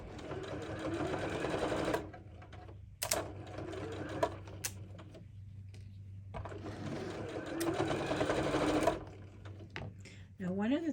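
A sewing machine stitches a flower petal drawstring bag in two close bursts of rapid whirring, separated by pauses with faint clicks and handling sounds, while someone talks.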